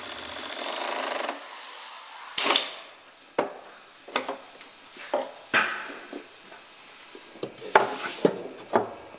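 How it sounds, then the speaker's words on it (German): A woodworker drives screws into a bentwood café chair, giving a brief whine of a driver followed by a series of sharp, separate knocks and clicks of wood and metal, close and fairly loud, with no talking. "Insgesamt fixiert der Holzmechaniker 12 Schrauben in dem Kaffeehausstuhl."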